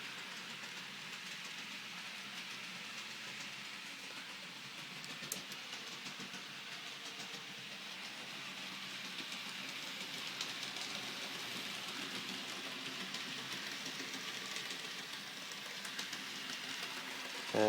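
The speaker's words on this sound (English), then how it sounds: "So all this is now powered up, so we can run some locos around in here." Model railway locomotives run on layout track, giving a steady, quiet mechanical hum and rumble throughout with no talking.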